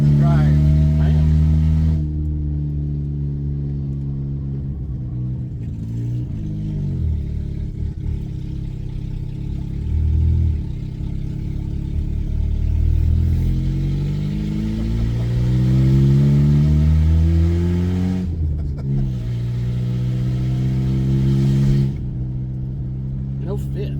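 A 1988 Yugo GVX drives along, its small engine droning loudly from inside the cabin with rising and falling revs through gear changes, and a voice talks over it.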